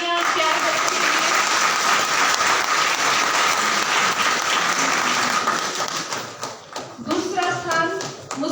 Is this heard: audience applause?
yes